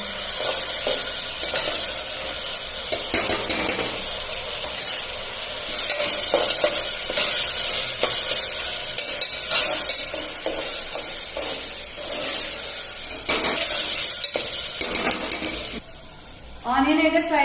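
Onion with ginger garlic paste fries in hot oil for a Sunday mutton curry, a steady sizzle broken by the scrape and clatter of stirring, with talk at times.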